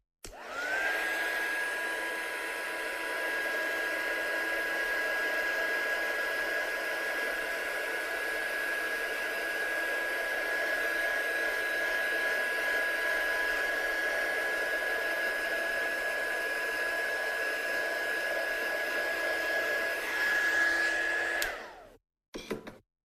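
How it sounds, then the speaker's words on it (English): A hair dryer blows steadily for about twenty seconds to dry ink on a handmade card, a close, even rush of air with a constant whine, cutting off abruptly at the end. "I'm just going to give that a quick blast now to dry it off a little bit."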